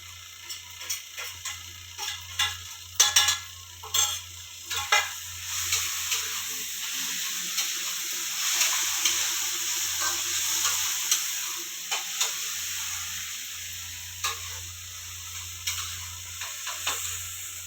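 Coarsely ground green chili and garlic paste hits a hot pan, giving a steady soft sizzle with intermittent stirring clicks and scrapes close by, no voices.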